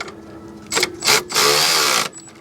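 On a Toyota Camry 2.2L, the belt tensioner lock bolt is run down with a power tool, giving three loud whirring bursts, the last lasting nearly a second, against a quiet workshop background.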